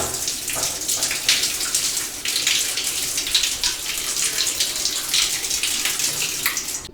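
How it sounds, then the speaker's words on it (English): A thin stream of water hisses and trickles steadily from a shower in an abandoned marble-fitted mansion, a continuous close splashing with no voices. "So here's the shower, and that is all that is coming out."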